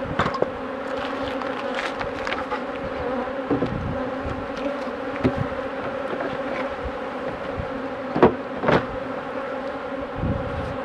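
Honeybees swarm around extracted honey supers set out for licking, a steady close buzz of many insects with individual bees droning past the listener now and then.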